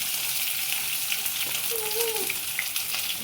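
Onion sizzling and crackling in hot oil, a steady frying hiss with a brief whistle-like tone partway through.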